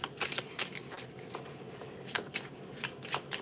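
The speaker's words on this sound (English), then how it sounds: "so I am shuffling" Tarot cards are shuffled close by in quick papery riffling bursts with short pauses between them, with no talking.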